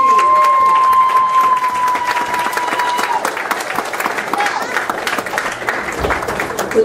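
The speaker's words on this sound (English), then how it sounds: "I need a round of applause." A Kwanzaa celebration crowd applauds and cheers, loud sustained clapping with scattered whoops and voices mixed in, while people talk over the noise throughout.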